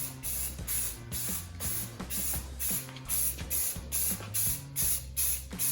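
Spray paint hisses from a can onto a shotgun being coated in A-TACS camo, in regular short bursts roughly every half second, close and fairly loud, with faint clicks and no talking.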